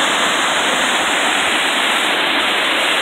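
Kaaterskill Falls, a tall waterfall in New York State, roars as a loud, continuous broadband rush of falling water, steady and close with no voices.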